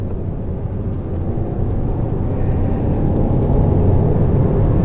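A Ferrari FF on a mountain road in Spain, heard as a steady, loud engine drone and road roar that builds gently as the car pulls along.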